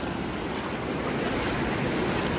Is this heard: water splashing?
yes